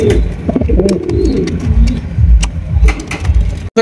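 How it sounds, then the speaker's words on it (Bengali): Jet black beauty pigeons coo in low, repeated throaty phrases up close, with a steady low engine-like hum running underneath throughout. "এখানে রয়েছে আরো একজোড়া বিউটি কবুতর, এটা হচ্ছে জেড ব্ল্যাক, কালো কুচকুচে একজোড়া বিউটি কবুতর।"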